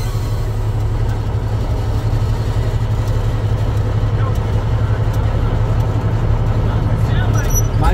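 A truck engine idles with a constant low, even drone throughout, with no distinct brake hiss or release standing out over it.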